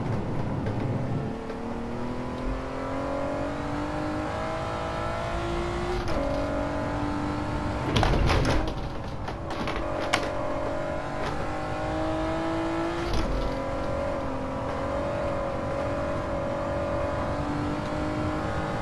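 A car four-wheel drifts in Gran Turismo 7 with a steady, droning engine note that climbs and drops through several gear changes. Occasional louder bursts of tyre or impact noise break in, and there is no speech.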